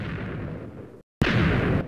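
TNT blows up in the Minecraft video game, a loud, dense roaring blast that cuts out abruptly for a moment before a second sharp burst of explosion noise continues.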